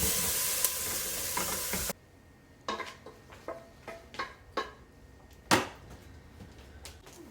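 Cabbage roll meat mixture with garlic, first heard as a loud sizzle of frying meat that cuts off, then a run of soft scrapes and knocks as the mixture is stirred by hand, ending in one sharper clatter.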